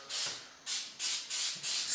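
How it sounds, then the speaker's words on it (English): Canola oil spray hisses onto a raw turkey in five short, even bursts, each about a quarter second long, loud and close with brief pauses between them. "hit it with a little bit of canola spray"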